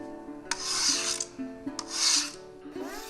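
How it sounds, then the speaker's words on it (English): A hand rasp files a carved stone oloid in two long, gritty strokes and the start of a third, each one a close, harsh scraping sweep with a short pause between. "there's something oddly satisfying about rasping stone"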